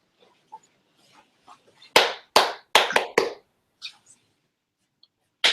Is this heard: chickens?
no